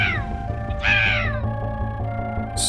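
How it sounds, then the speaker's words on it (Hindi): A caged parrot squawks in a few harsh, nasal cries, one louder burst near the start and a sharp shriek at the end, with no talking. "शायद इस तोते को हेल्प की जरूरत है। ये बचाओ बचाओ चिल्ला रहा है।"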